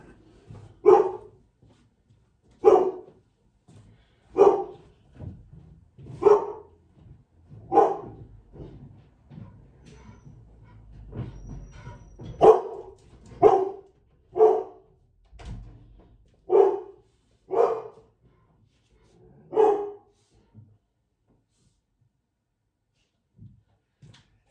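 A house dog barks repeatedly from indoors at other dogs passing by the window, about a dozen loud, sharp barks spaced a second or two apart, with softer whines between them and no talk.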